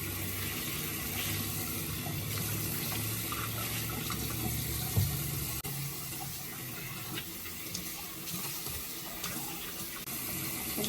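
Tap water runs steadily and close by as a Moroccan hammam exfoliating mitt is rinsed off at a sink, a continuous splashing rush with no talk.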